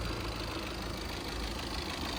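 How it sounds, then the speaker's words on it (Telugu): A 2019 Tata Nexon XM diesel engine idles steadily with a low, even rumble and no other sounds. "ఇంజన్ చాలా సైలెంట్ ఉంది"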